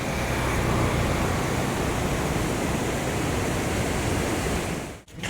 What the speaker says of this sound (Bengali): ব্যারেজ থেকে যে জলটা বেরোচ্ছে তার স্রোত কিন্তু দারুণ